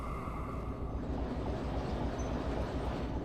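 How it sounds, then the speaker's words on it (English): Train running on rails in the Derail Valley simulation game: a steady, loud rolling rumble of wheels on track with dense rattling texture throughout, continuous and close, without speech. "I listen to the train sounds."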